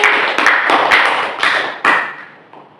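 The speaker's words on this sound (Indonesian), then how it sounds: "Beri tepuk tangan untuk Mbak Fani" A classroom group in a microteaching biology lesson claps for a student, a loud, close, uneven burst of separate hand claps that thins out and fades near the end.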